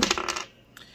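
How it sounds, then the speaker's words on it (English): A six-sided die clatters briefly across a hard tabletop in a board game session, giving a quick burst of close rattling taps that stop within half a second, followed by quiet. "So let's roll a six-sided dice"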